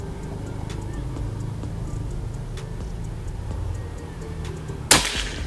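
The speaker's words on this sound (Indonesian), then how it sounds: "Tembakan ke 2." A single sharp, loud shot from a PCP air rifle cracks out near the end, standing out against a steady low background rumble.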